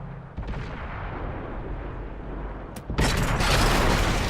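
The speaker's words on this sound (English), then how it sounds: "can you guys stop shooting me there?" Tanks fire in a video game. A rumbling, sustained roar of heavy gunfire builds and then swells into a louder, denser blast of explosions partway through, with no talk.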